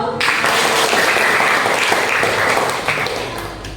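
An audience of university students in Palembang breaks into loud, close applause at an Islamic lecture, a dense burst of clapping that holds steady before tailing off.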